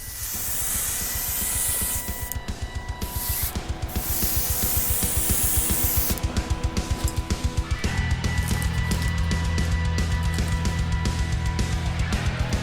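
An airbrush lays a light coat of gold paint onto the upper saucer of a 1:350 Enterprise Refit model kit, a steady close hiss broken by short pauses, with a rapid mechanical pulsing from the compressor running underneath.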